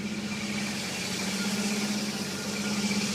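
A 1950 Chevy truck with a fully rewired engine runs at a steady idle close by, a smooth continuous mid-pitched hum and rumble with no voices.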